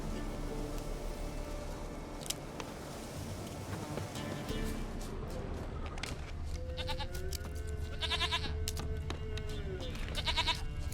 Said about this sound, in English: Hoofed and horned. Should have known it would be stubborn.